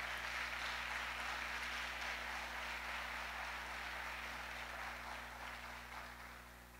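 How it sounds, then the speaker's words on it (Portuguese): Churchgoers applaud during a worship service, a dense continuous patter of clapping heard from a distance over a low steady hum, slowly tapering off toward the end. "Você pode aplaudir o Senhor por isso?"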